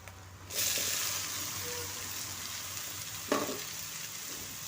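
Chopped cabbage and onion hit a hot pan and start sizzling, a steady loud frying hiss with a brief stir or clatter partway through, no voices.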